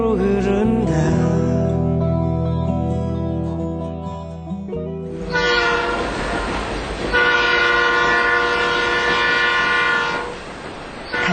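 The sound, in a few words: train whistle sound effect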